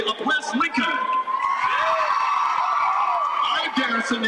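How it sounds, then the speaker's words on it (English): A crowd at a West Lincoln versus Newton state championship event cheers and whoops in a sustained, loud swell of voices, with scattered shouting and a voice speaking over it near the start and end. "All right, Garrison, they're cheering for you."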